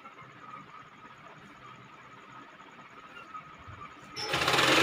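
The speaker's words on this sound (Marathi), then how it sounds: "याप्रमाणे आपल्याला पूर्ण उभ्या टिपा मारून घ्यायच्यात" A sewing machine runs steadily, stitching a quilt made from thirteen old sarees. It gives a continuous whirring hum at moderate level, then a louder burst of noise right at the end.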